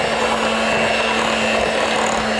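Electric hand mixer whirring steadily as it blends peanut butter, sugar and other ingredients for no-bake peanut butter bars, a loud continuous motor hum with no pauses and no talking.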